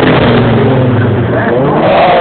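Mazda race car engine at an auto racing event, revving loudly and continuously as it passes close by, a steady roaring drone throughout with no talk over it.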